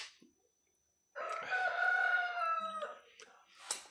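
A rooster crows once, loud and close, a long drawn-out call lasting about two seconds after a quiet start, followed by faint rustling.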